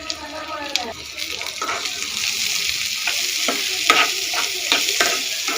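Bitter gourd sautés in oil with a steady close sizzle, broken by frequent scraping stirs and soft clinks, fairly loud throughout.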